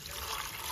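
Water pours steadily into a cooking pot for goat leg soup, a short continuous splashing rush with no voices over it.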